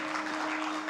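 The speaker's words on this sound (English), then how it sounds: "A big round of applause for them, guys." An audience at a corporate industry-leaders event breaks into dense, continuous applause, a steady wash of clapping filling the whole short moment.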